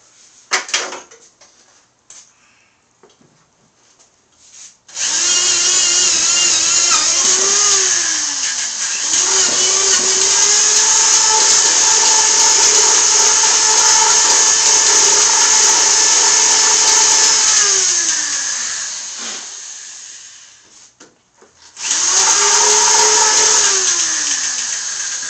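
Power tool widening a hole in a budget racing rig, a loud sustained whine close up that spins up, holds for about fifteen seconds, winds down and then starts again after a brief quiet pause.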